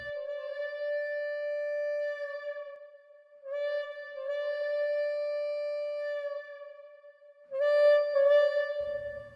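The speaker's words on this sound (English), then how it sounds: "Here, only the whistles." Train whistles from Boy and the World sound alone in three long, clear, harmonic blasts, the first two held for several seconds and the last shorter, with brief silences between them.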